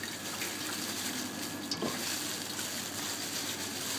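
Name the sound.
bayberry juice pouring from a bag into a pan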